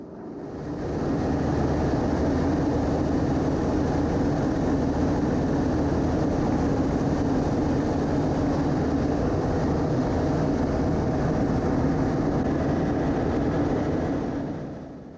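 A Yak-50 aerobatic plane in flight over Abbotsford Airport, its engine a steady, loud, low droning roar that holds for the full stretch and fades slightly at the edges, with no talking.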